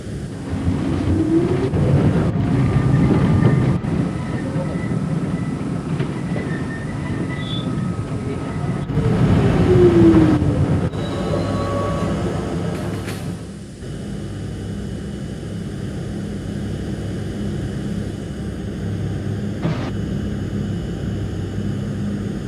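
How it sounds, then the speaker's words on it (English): An R40 Slant subway car on the C local line rumbles along the track through the ride, loud and steady, with screeching wheels and a shift in tone partway through. "This is a Manhattan-bound C local train."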